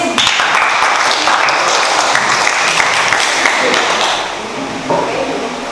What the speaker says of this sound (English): Okay, give applause please.